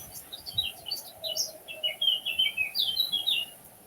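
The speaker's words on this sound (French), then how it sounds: "j'écoute les oiseaux" Birds sing in a forest, a run of bright chirps and twittering phrases close by, with a quiet background hum beneath.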